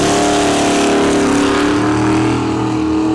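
Nova drag car accelerating down a dragstrip at a test-and-tune session, a loud sustained engine roar with a steadily climbing then slightly falling pitch, heard from trackside over a few seconds.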